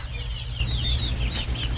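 Farm chicks peeping in a steady chorus of thin, high chirps close by, over a low continuous rumble.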